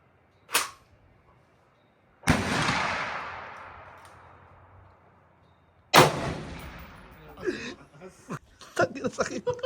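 Gunshots at an outdoor target shooting match, three sharp reports with decaying echoes spaced several seconds apart, followed by people talking.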